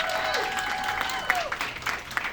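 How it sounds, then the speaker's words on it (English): An audience claps for a speaker at a summit celebrating the 50th anniversary of the National Black Feminist Organization, with steady applause and a few cheers or whoops rising over the clapping. "Let's give her a round of applause."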